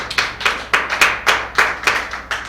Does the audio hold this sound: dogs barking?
no